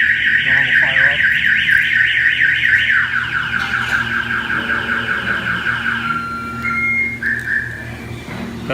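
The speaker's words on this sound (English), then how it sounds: "The alarm will fire up." A 1974 Dodge Challenger's alarm goes off after a shock to the vehicle, loud and close, cycling through warbling whoops and steady siren tones, with a faint voice underneath.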